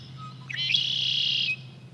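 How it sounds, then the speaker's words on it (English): A male red-winged blackbird sings once in wetland reeds, giving a short stuttering intro of chips that rises into a long buzzing trill, clear and fairly close over a low steady background hum. "when I start to hear those red-winged blackbirds singing"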